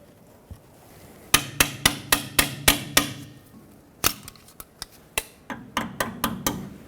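A brake hose retaining clip on a 2011-2016 Ford F-350 front brake line is tapped and locked into its bracket: a fast series of sharp, close metallic clicks and taps in two bursts, with no talking.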